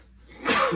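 A single short, sharp sneeze bursts out after a quiet moment, close and abrupt, lasting under half a second.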